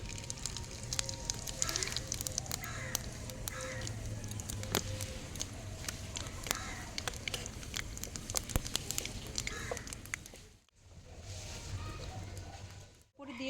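Dried red chillies and cumin seeds sizzle in hot oil in a pan for a home-style potato curry, a steady dense crackle and spatter that continues for several seconds before briefly dipping and resuming.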